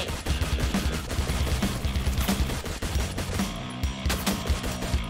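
Dense, continuous gunfire in the battle-royale game Free Fire, rapid shots and bursts layered over one another at a steady loud level for the whole stretch, with no voices.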